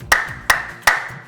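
Three sharp, close hand claps, evenly spaced about a third of a second apart, ring out to summon a fairy, each with a brief echoing tail and no speech.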